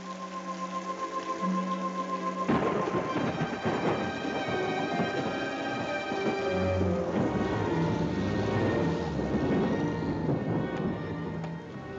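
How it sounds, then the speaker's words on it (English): Rain and rolling thunder on a drive through rain-swept countryside, a steady wash of rain under low rumbling, with music swelling partway through; no one speaks. "driving through this rain-swept countryside"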